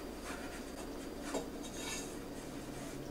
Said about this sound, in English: dump all your dry ingredients in there like I just did and give them a little whisk